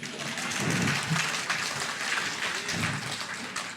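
Applause from a crowd at a Perikatan Nasional political convention in Penang sounds as a steady wash of many hands clapping, fairly loud and sustained for a few seconds, with no clear voices over it.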